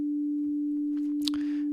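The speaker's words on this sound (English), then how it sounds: "We've got our sine wave," A synthesizer sine wave from a Bitwig Grid patch holds a steady, pure, low-pitched hum throughout, fairly quiet, with a brief soft chirp and some faint noise near the end.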